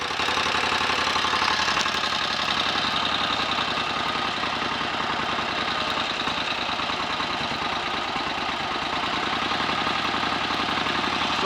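1930 Royal Enfield 1000 cc Model K motorcycle engine held at a fast idle, a steady, even mechanical thrum with rapid beat, close and continuous throughout with no voices.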